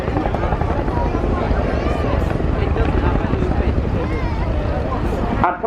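Chinook twin-rotor helicopter in an air display corkscrew departure at RIAT, loud continuous heavy rotor thudding and engine roar close by, with a voice talking over it.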